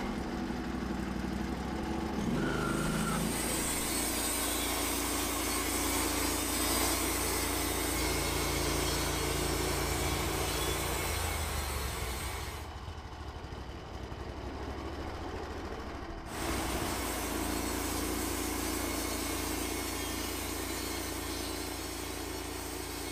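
A steady mechanical drone of a sawmill saw cutting a log into planks, running continuously, with a brief dip partway through before the loud grinding resumes.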